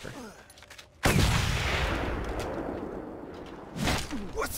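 Sniper gunfire in the Mad Max video game: one sharp, loud shot followed by a long rumbling decay, with a second burst near the end.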